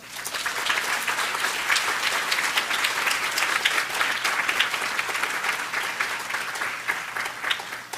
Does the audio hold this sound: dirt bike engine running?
no